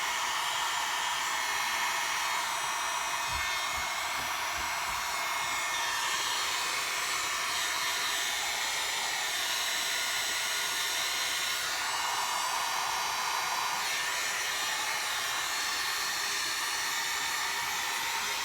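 Close and loud, a heat dryer used to speed-dry paint on a canvas stencil design blows continuously with a steady airy roar, with a few faint low knocks early on and no voices.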